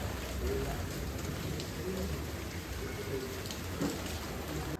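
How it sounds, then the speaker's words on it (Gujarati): Heavy morning rain pouring steadily, a dense even hiss of drops on surfaces, close and continuous. "અત્યારે સવાર સવારમાં વરસાદ ચાલુ થઈ ગયો છે અને એટલો ફૂલ વરસાદ આવે છે"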